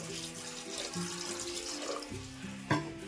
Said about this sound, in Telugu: ఇప్పుడు మనం ఇందులో తగినన్ని నీళ్ళు వేసుకోవాలి